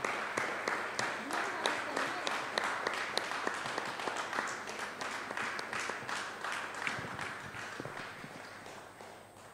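A church congregation claps in a fast, even rhythm, loud and close, joined by acclamation shouts praising the Lord, with a voice speaking over the clapping.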